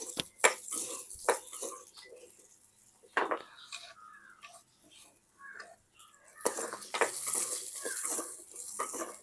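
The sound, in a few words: frying onions in a pan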